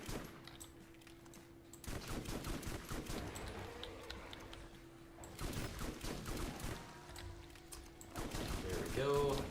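The T.K.'s Wave shotgun in a video game fires in bursts of loud, dense blasts that come in clusters with brief pauses, while someone talks over the gunfire.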